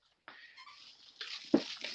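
A puppy whimpers and squeaks in short, high bursts close by, with a louder yelp near the end, alone with no talking.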